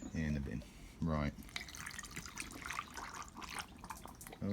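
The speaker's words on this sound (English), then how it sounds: "so I'm going to pour vinegar in, some of the water, more vinegar I think" Vinegar pours and splashes into a container in a trickling stream while flushing a Kawasaki GPZ500S motorcycle's system, with a voice speaking briefly at the start and end.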